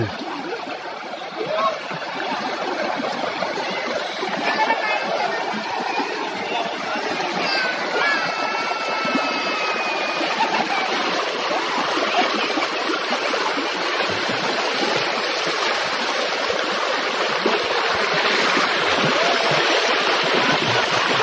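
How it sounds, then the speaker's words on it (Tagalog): Steady rushing river water fills the whole stretch, a dense continuous roar with splashing texture, close and loud. "Siguro naririnig niyo yung lagasgas ng tubig."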